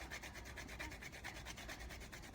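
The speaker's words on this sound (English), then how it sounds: "it releases a gorgeous smell when you're cooking to grate the nutmeg like this" A whole nutmeg rasps against a small handheld grater in quick, even back-and-forth strokes, a soft, steady, rhythmic scraping heard up close with no voices.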